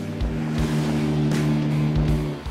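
Jeep JL and other off-road rigs, including a General Tire Tacoma, rumble past one after another on a narrow West Virginia trail, with steady low engine drone and a few louder bursts as each passes close by.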